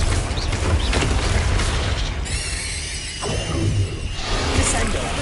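A Confringo blasting spell going off in Hogwarts Legacy, with loud, continuous booming rumble and crackling blast noise filling the clip and a brief bright whoosh partway through.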